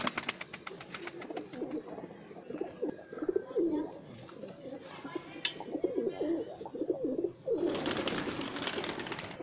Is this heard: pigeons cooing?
yes